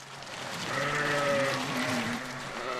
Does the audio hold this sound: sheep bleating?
yes